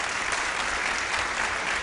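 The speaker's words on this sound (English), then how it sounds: "So I'd love it if our Lahore audience could give Dwight a round of applause." An audience at a literary festival in Lahore gives a round of applause, a dense, even wash of clapping from a sizable crowd, moderately loud and unbroken through a brief stretch.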